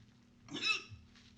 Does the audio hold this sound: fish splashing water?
no